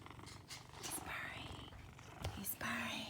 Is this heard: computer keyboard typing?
no